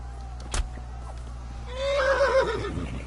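A horse in the video game Kingdom Come lets out a single clear whinny in the latter half, preceded by a quiet background and a brief knock.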